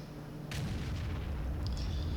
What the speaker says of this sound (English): so I'm going to blind fire at him